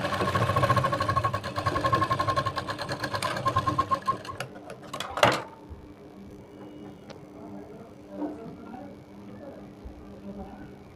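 A sewing machine stitching a Matka Gala blouse runs with a fast, steady mechanical whirr and ticking for about five seconds, then stops abruptly; someone talks over and after it.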